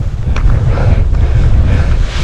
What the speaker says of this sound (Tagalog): Uy, mahangin.